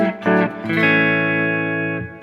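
Electric guitar played through an HX Stomp using the US Dripman Norm amp model, a raw bass-heavy tone: a few short picked notes, then a long sustained chord ringing out loud and alone before a brief final strum.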